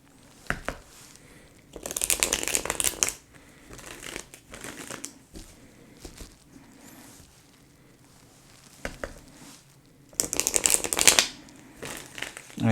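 Tarot cards being shuffled by hand, several bursts of riffling and rustling card noise separated by quieter pauses, close and moderately loud.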